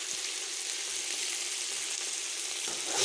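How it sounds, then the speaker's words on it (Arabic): Meat searing in a pot while cooking kabsa, a loud, continuous close sizzle and crackle of hot fat with no voices over it. "شوية اشوح اللحم بعدين الا اخلي التمن"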